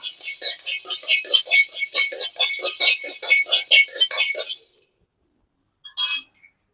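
Roasted peanuts poured out of a pan, with a dense run of quick, bright clinks and rattles for several seconds. A short second rattle follows after a pause.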